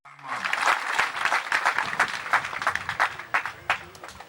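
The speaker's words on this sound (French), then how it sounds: "Est-ce qu'on peut donner un applaudissement?" A crowd at a village chief's enthronement breaks into lively applause, uneven clapping with bursts and surges that stays close and loud for the whole stretch.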